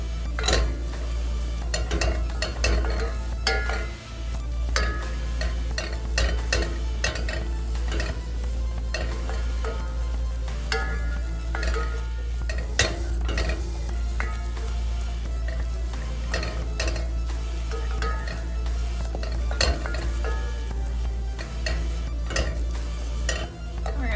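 Food fries in a hot pan while being stirred, with continuous sizzling under frequent scraping and clinking of a utensil against the pan, close and fairly loud, with no talking.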